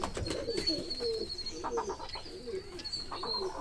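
Pigeons coo repeatedly from above a chicken coop, soft rolling calls in a steady rhythm over a low outdoor background with faint chirps.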